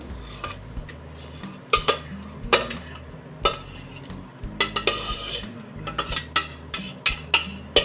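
Lauki barfi in a steel cooking pot is flipped out onto an ungreased plate, giving a run of irregular metallic clanks, scrapes and clinks of cutlery against pot and plate, close and fairly loud, with no talk.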